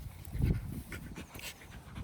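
Tired big dogs pant close by in quick, rhythmic breaths, with a louder burst early on and softer huffing after, and no talking.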